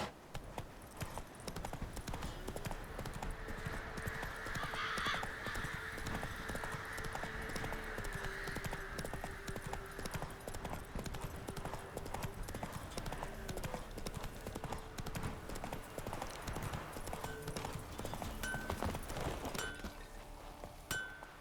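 Roach's hooves clop in a steady trotting rhythm on the ground in The Witcher 3, continuous and fairly quiet, with faint clinks, a brief whinny and distant ambient game sounds around them.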